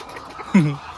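A single short cluck from a chicken drinking at a farm in San Jose, Batangas, close and clear over faint background noise.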